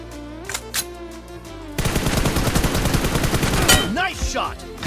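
Gunfire in the mobile battle-royale game PUBG Mobile/BGMI: a dense, loud burst of rapid automatic shots lasting a couple of seconds, preceded by a few single shots and followed by fading game sounds.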